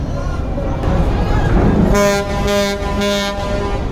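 A passenger launch, the river ferry Parabat 11, arriving at the Barisal launch ghat sounds a loud, steady horn in repeated blasts close by, over crowd murmur and voices at the busy riverside terminal.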